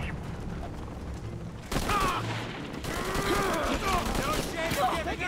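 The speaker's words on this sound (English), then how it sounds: "Need to confirm reports of more gunfire" Bursts of rapid gunfire erupt partway through Shadow of the Tomb Raider gameplay, loud and clattering, amid combat sounds and metallic mechanisms.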